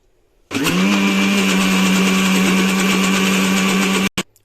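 An electric grinder runs steadily for several seconds, blending sesame seeds and oil into tahini, with a loud, even motor whine and a strong constant hum before it cuts off abruptly and briefly restarts.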